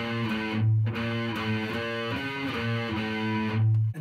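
Distorted electric guitar plays the intro riff, a chugging, repeating pattern of low palm-muted notes and short higher bends, loud and alone.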